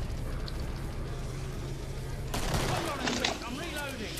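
Gunfire in the co-op zombie shooter Killing Floor, a burst of shots erupting midway and continuing in a dense, slightly distant clatter beneath game ambience.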